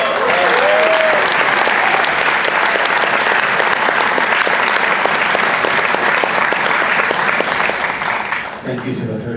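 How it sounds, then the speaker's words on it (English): A film festival premiere audience applauds in a thick, continuous wave of clapping, steady and loud for about eight seconds before fading as it dies down. "Thank you to the third of you who applauded"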